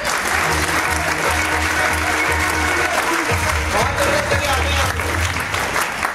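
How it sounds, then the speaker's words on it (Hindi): Loud, sustained crowd applause at a motivational talk, dense clapping filling the room with a low hum of voices underneath. "इनके लिए तालियां हो सकती हैं"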